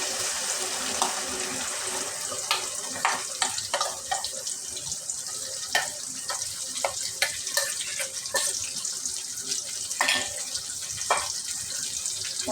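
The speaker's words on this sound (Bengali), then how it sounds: "এখন আমি এই বেটারটা ডাইলা দিব" Batter is poured into hot oil over a lowered flame. Frying gives a steady close hiss, broken by scattered sharp crackles and pops, with no talking.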